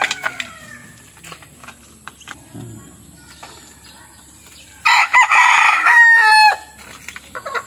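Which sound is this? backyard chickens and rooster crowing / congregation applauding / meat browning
backyard chickens and rooster crowing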